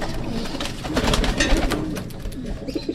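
A racing pigeon coos softly and repeatedly at close range, a low rolling burble over faint background rustle, with no talking.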